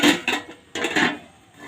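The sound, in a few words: lifting the lid off the biryani pot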